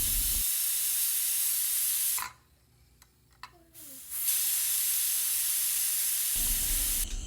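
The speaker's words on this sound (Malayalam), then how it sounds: "കുക്കറിന് നന്നായിട്ട് വിസിലടിക്കുവോളം വെയിറ്റ് ചെയ്തു" Steam hisses hard and loud from a pressure cooker releasing pressure while cooking chicken, cutting off for a near-silent gap, then hissing again steadily to the end.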